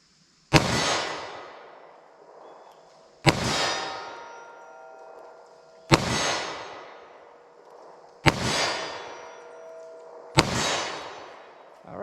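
.38 Special snub-nose revolver fired at a steel target: five loud, sharp shots about every two and a half seconds, each with a bright metallic clang ringing and decaying between shots, no talking.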